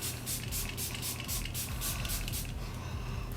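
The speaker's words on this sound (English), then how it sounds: "I'm going to use the Makeup Revolution Super Fix Super Hold Misting Spray" Makeup Revolution Super Fix Super Hold misting spray sprayed onto a face, a rapid series of about ten short, soft hissing puffs in close succession, close to the microphone, with no talking.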